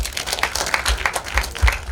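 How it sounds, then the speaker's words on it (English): Scattered audience clapping at a legal summit, a patchy round of claps of moderate loudness with irregular bursts and no talking over it. "I'd like you to give another round of applause to JC Muyonjo"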